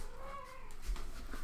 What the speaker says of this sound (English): my cat's going crazy right now.